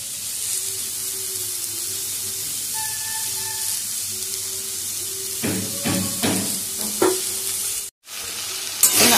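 Peas, tomato and ginger paste sauté in a hot pan with a steady close sizzle. A few sharp scraping stirs come near the end, followed by a brief silence and a final clatter.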